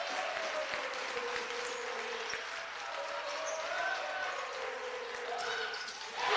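A volleyball crowd stands and cheers during a college match between Alaska and Saint Martin's, a loud, sustained roar of voices and claps filling the gym under an announcer's commentary.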